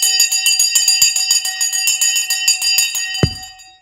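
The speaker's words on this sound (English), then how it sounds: "We're about to ring the bell" The Wall Street closing bell rings loud and continuous as a rapid metallic clanging with bright sustained tones, then stops abruptly with a sharp thud as the microphone is struck.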